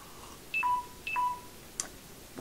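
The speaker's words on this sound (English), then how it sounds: "Was that my phone? Oh, yeah. Low battery." Mobile phone gives a low-battery alert, two short double-toned beeps spaced about half a second apart, faint and close in a quiet room, followed by a brief click.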